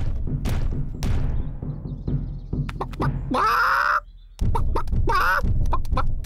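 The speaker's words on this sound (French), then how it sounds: "Les poules." In a cartoon, chickens give a couple of clear, high, wavering clucking calls amid thumps and background bumps. Louder clucks come near the middle and again toward the end.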